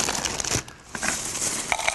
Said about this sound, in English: about a cup of cereal